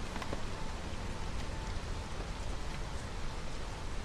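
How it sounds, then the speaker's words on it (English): Steady rainfall in a video game during a seasonal storm, a soft continuous hiss of drops with faint scattered patter and no voices. "now that it's raining"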